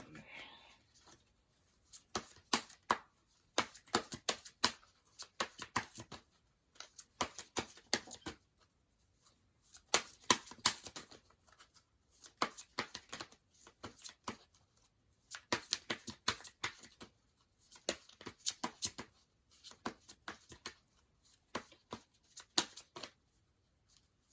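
Moonology oracle cards shuffled by hand in repeated bursts of crisp riffling and slapping, with short pauses between rounds, close and fairly quiet.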